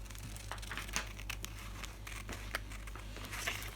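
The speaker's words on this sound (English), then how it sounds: "Now along all the 2 centimeter lines, cut those" Scissors cutting paper panels along marked lines, a series of crisp rustling snips and crinkles, close up over a steady low hum.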